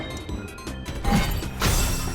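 Glass panes shattering in Ink Games as a power is used on them, two bursts of breaking crash and smash heard over a steady game background.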